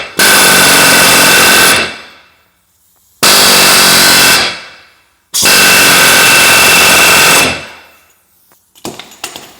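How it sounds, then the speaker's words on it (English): A Mac air hammer pounds on a 2013 Nissan Titan wheel bearing in loud, rapid bursts, three long sustained runs separated by short pauses, then a few faint clanks. "this Mac air hammer, this thing is a pretty serious piece"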